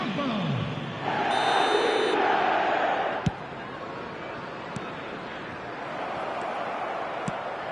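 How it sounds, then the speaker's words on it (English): A stadium crowd roars after a goal in a Liverpool match in eFootball 2026, swelling loudly for a couple of seconds, then settling into a steady murmur broken by a few sharp thuds. "the crowd level has gone up a notch or 10."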